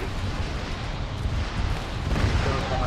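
AA gun fire in a Warhammer 40k video game, a dense, continuous rumble of booms and blasts under a windy roar, loud and sustained throughout with no clear gaps and no talk.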